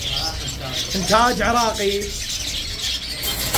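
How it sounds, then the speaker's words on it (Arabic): Caged pigeons and lovebirds call at a busy Baghdad bird market, a short burst of close squawking chirps amid crowd noise while someone talks over them. "زوج 25 الف طيور حب هاجرمو والحمام الملكي"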